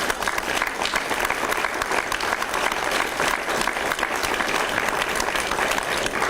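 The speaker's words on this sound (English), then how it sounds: "You can clap on that." An audience at a Macon-Bibb County violence prevention announcement claps after a reported drop in homicides, dense and steady applause filling the room at close range throughout.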